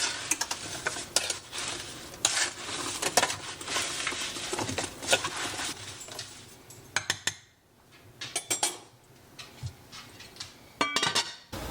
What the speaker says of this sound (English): I'm just gonna give this a quick stir to combine everything.